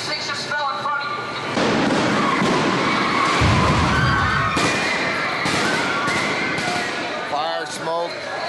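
A stunt explosion with debris on a Transformers film set: booming thuds and crackling, rumbling bursts over several seconds, with people talking and calling out around them.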